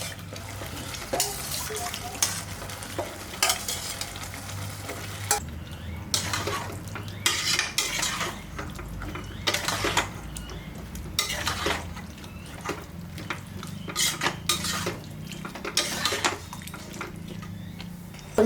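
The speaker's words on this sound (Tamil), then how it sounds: "இந்த சுண்டலையுமே போட்டு நம்ம நல்லா வதக்கலாம்" Boiled chickpeas are sautéed in a pan for chana masala, heard as intermittent spoon scrapes and clanks against cookware with faint running-water hiss in between, close and fairly quiet with no talking.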